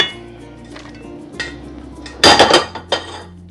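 Drained pasta tipped into a pot of Alfredo sauce with broccoli, making a short burst of clattering metal and utensil clinks against the pot, loud and close, followed by a fainter knock.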